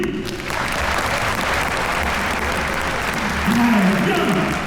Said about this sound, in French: tout le monde applaudit